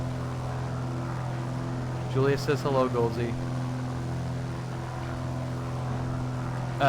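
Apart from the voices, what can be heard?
Piper Archer 2 propeller engine in a flight simulator video game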